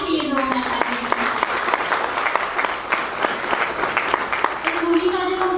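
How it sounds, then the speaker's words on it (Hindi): Crowd at a film press conference applauding, dense continuous clapping from many people at close range, with a voice speaking briefly at the start and end. "एक बार उस परिवार के लिए जोरदार ताली।"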